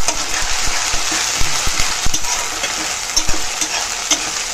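Ginger-garlic paste mixed with cumin fries loudly in a pan for duck khichuri, a constant hiss broken by repeated spatula clicks and scrapes close by.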